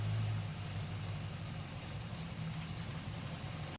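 A vehicle engine idles steadily while backing up, a low, constant rumble that stays close and loud for the whole stretch with no voices over it.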